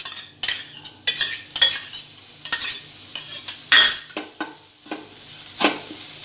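Paneer with coriander and chili powder being roasted and stirred in a pan, with repeated scraping strokes of a spoon against metal over a soft, steady sizzle, close and alone.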